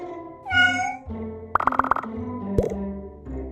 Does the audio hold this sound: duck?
no